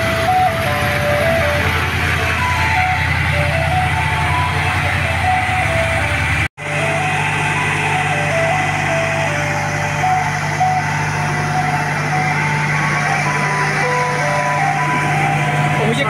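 A tinkly soft-serve ice cream van jingle in Tijuana, Mexico, plays continuously over a low engine hum, briefly cutting out midway before resuming, loud and close.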